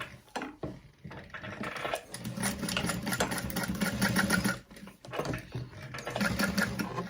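Domestic sewing machine stitching a bag seam at a long stitch length, a steady close whirring run with brief pauses and restarts for backstitching, no talking.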